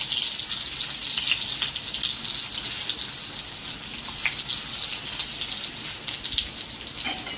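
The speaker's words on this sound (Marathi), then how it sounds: "मच्छी फ्राय करतो आपण तशी काजली फ्राय झालेली असतात" Stuffed bitter gourd (karela) shallow-frying in hot oil, a steady dense crackling sizzle that holds evenly throughout, close with no voices.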